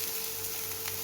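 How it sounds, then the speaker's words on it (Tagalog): Onion sautés in a pan with a steady, close crackling sizzle that holds evenly for the short stretch, with no talk over it. "Gisa lang po natin yung onion natin hanggang mag-translucent."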